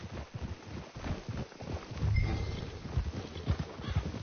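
Horses in the video game Red Dead Redemption 2 give off a steady clip-clop of hooves, mid-distance and moderately loud, with a short whinny partway through amid rustling ambience.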